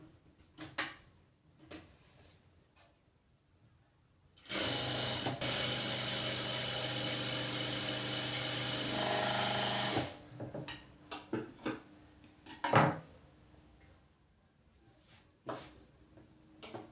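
A sewing machine runs in one steady burst of about five seconds as it stitches a blouse lining along a marked line, surrounded by scattered clicks and handling noises of fabric and parts.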